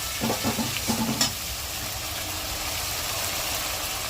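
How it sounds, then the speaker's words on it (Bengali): Onion paste frying and being stirred in a pan for a Bengali chicken dish, with a few close scraping strokes over the first second and a steady low sizzle afterwards. "এবার এর মধ্যে আমি পেঁয়াজ বাটাটা দিয়ে দিচ্ছি।"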